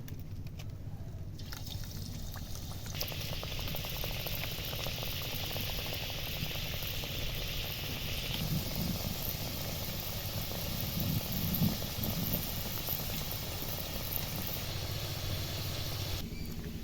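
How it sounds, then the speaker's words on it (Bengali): Hot white oil in a kadai bubbles and sizzles steadily as palm-filled pithas fry, a soft continuous crackle up close, with no voices. "এবার কড়াইয়ে সাদা তেল গরম করে নিয়েছি এবার একে একে ছেড়ে দেবো"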